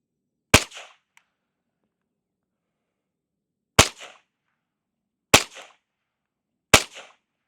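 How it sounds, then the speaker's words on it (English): Four sharp shots from a Marlin Model 70P Papoose rifle, crisp and close with brief outdoor decay, the first alone and the remaining three in quicker succession after a pause. "Let's try to shoot blades of grass."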